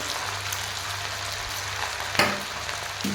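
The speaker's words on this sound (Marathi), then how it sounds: "गरम गरम तेलामध्ये हे बॉल्स टाकून घ्यायचे आहेत" Snack balls dropping into hot oil for deep frying, giving a steady sizzling hiss with sharper bursts as each ball lands, near and without talk.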